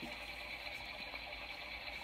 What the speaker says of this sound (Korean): 또아가 좋아하는 건 백색 소음.